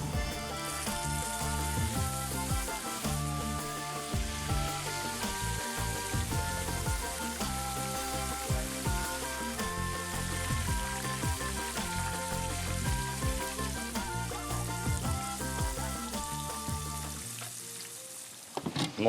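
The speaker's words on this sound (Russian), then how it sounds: "Алексей, Что, майкопских будем карпов зеркальных жарить, да, в саже?" Loud, continuous sizzling and crackling of mirror carp frying in hot oil, close by and steady throughout, with no talking.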